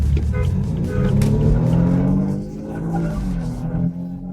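A BMW F30 328 with Stage 2 tuning, intercooler, straight pipe and intake races a BMW 320, its engine droning loud and close, the tone climbing under acceleration before easing off, then surging again.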